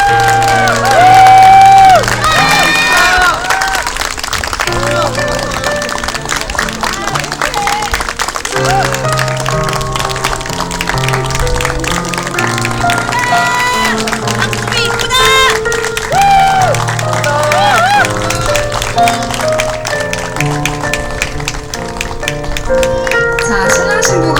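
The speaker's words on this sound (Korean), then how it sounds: "신부가 먼 길 용기 내서 올 수 있도록 많은 박수 부탁드리겠습니다" Guests at a small outdoor seaside wedding on Deungmyeong Beach in Jeongdongjin, Gangneung, clap and cheer for the bride's entrance, continuous applause and whoops over loud music throughout.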